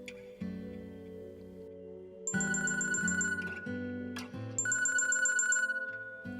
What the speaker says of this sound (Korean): 어느 날 뜬금없이 전화가 한 통 걸려왔어